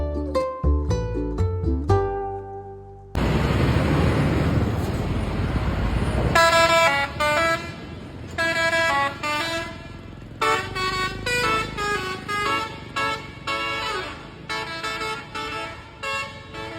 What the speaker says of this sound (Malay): horn berbunyi bila diperlukan.